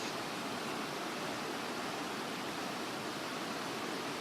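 Heathen Creek rushes past a washed-out bridge site after a storm, a steady, dense broadband wash of flowing water with no pauses and no voices.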